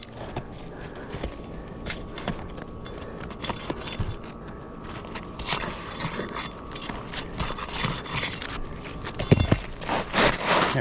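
A nail is pried out of residential roof shingles during a repair, heard as a series of scraping, clicking and metallic creaking bursts, irregular and close, ending in a sharper crack near the end.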